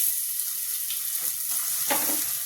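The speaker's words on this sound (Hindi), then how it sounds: "थोड़ा सा आलू हमारी फ्राई हो जाए।" Potatoes frying with cumin seeds in a hot pan for a vegetable dish, a steady close hiss of oil with a brief burst of louder crackling near the end.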